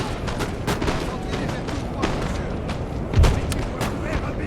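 Musket volleys in the Napoleonic battle game Total War: Napoleon, set in the Peninsular Campaign, crackle as repeated ragged gunshot bursts with a heavier boom near the end, all under a busy battlefield din.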